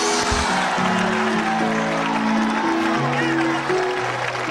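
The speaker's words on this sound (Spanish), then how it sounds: "Dale el aplauso a Dios." Church congregation applauding after a sermon by a pastor, a sustained wash of clapping from a large crowd, mixed with cheering voices and a steady musical tone underneath.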